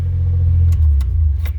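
A car idles with a loud aftermarket exhaust, giving a deep, steady low rumble with slight pulsing and a few faint clicks, close and continuous throughout.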